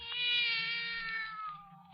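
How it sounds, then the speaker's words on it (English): A cat meows as a radio drama sound effect in a 1947 radio adaptation of Poe's The Black Cat: one long, loud, drawn-out tonal meow that falls slowly in pitch and stands alone, with no voices over it. "Oh, there's a cat now."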